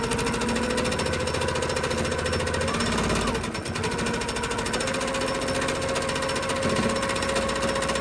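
A sewing machine does free-motion stippling on a quilt, a loud continuous rapid needle clatter running steadily throughout with a brief dip in the middle.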